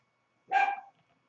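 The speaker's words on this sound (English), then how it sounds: "So I put her in her cage and she's still going to bark." A dog shut in her cage gives a single short, sharp bark at moderate volume, with silence before and after.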